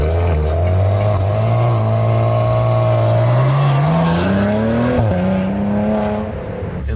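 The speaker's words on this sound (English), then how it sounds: "It's one of the best V6 twin turbos I've ever heard" A 2017 Maserati Ghibli Q4S with its twin-turbo V6 revs loud and close, the engine note climbing steadily in pitch, dipping briefly, then rising again in a sustained throaty pull.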